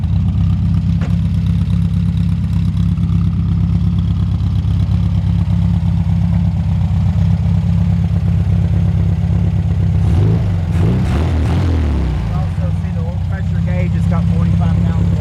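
A 1959 VW Karmann Ghia engine idling loud and close with a steady low rumble throughout, voices talking over it, and a brief change in the engine note near the end.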